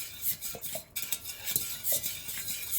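A utensil stirs a wax melt mixture in a container, scraping and clinking softly in an irregular rhythm, close by, with no voices.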